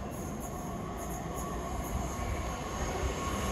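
A Class 455 electric train bound for London Waterloo via Raynes Park rumbles past close by, a steady loud rolling roar of wheels on rail with faint high squeal throughout, no voices.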